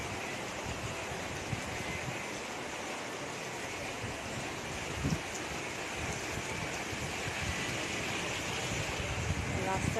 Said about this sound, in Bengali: তোমরা দেখতেই পাবে কত জোরে বৃষ্টিটা পড়ছে বাইরে